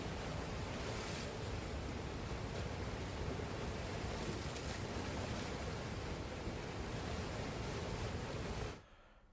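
A swollen, flooding river in Bihar churns with roaring waves, a loud, constant wash of rushing water mixed with wind buffeting the microphone, cutting off abruptly near the end.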